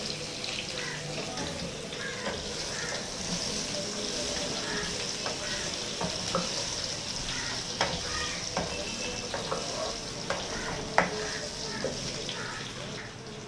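Potatoes for aloo chaat frying in a pan, a continuous close sizzle with repeated scraping and clicking strokes as they are stirred, a few sharper knocks of the utensil against the pan.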